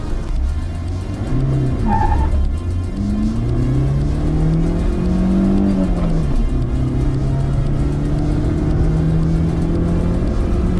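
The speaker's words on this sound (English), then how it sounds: "this was the 50 bhp carbureted engine. But it really moved nicely" A Maruti Zen hatchback with a 50 bhp carbureted engine accelerating, its engine note climbing steadily and loud and close throughout, with no talking over it.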